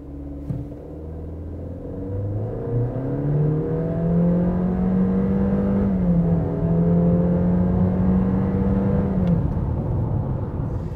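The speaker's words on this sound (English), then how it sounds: "we thought we'd stick it up against the stopwatch just to see how quick it is" A 2021 Honda CR-V SUV with a turbocharged petrol engine accelerates hard from the cabin, a steady rumbling drone whose pitch climbs through the gears with brief dips at shifts, loud and continuous with no talking.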